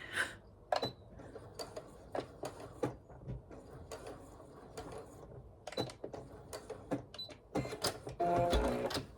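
A sewing machine stitches across the bottom of a fabric project bag in short bursts of rapid mechanical clatter separated by pauses, fairly quiet and close, ending in a longer louder run.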